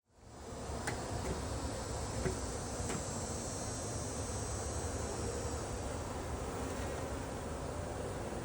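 A honeybee swarm hums in a steady, dense buzz outdoors, faint and continuous for the whole stretch with a few brief sharper passes of individual bees.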